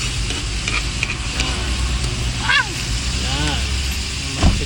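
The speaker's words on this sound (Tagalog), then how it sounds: "Magigisa na tayo ng sibuyas at kamatis." Onions and tomatoes sautéing in a pan give a moderate sizzle with spatula scrapes and clatters, while people talk over the cooking.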